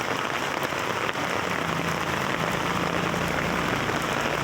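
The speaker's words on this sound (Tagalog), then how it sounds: "Lakas na ng ulan guys." Heavy rain pouring outdoors while someone walks along a street toward a market, a dense, loud, continuous hiss of drops striking surfaces all around, steady from start to finish with no talking.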